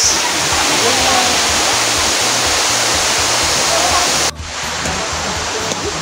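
Tagbilat Falls in Zamboanga Sibugay pours in a steady, loud broadband roar of falling water, continuous throughout with a slight drop in level near the end.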